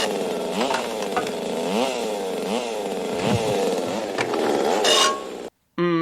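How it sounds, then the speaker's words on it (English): A chainsaw in a horror movie scene revs repeatedly in rising and falling bursts, loud and close, with a brief dropout near the end. "Vincent's got a chainsaw, but Bruce has a plan"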